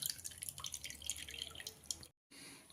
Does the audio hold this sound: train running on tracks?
no